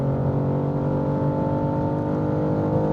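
A BMW M2 G87 pulls hard on the Autobahn, its engine a steady, loud droning roar heard from inside the cabin, holding an even tone throughout with no voices.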